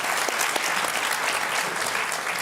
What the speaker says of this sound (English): Yes, please give your warm applause.